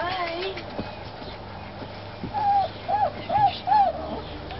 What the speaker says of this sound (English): Puppy hollers.